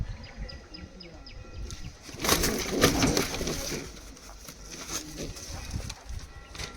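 An active, restless pigeon coos near the listener, with soft repeated calls mixed with rustling and handling noise, and a voice talking over part of it.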